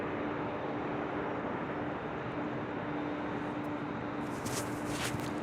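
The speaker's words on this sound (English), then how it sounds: "that A380 Super, just 4 years of age, delivered to Emirates in May of 2018" An Emirates Airbus A380, a four-year-old jet, roars steadily as it lands at LAX. The noise is a loud, continuous rumble, heard from high above the airport, with a brief hiss of wind-like bursts near the end.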